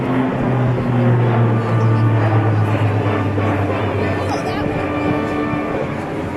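A C-130J-30 Hercules with six-bladed propellers flies a demonstration at an Air National Guard airshow in Rhode Island, its engines a steady low drone heard while a voice talks over it.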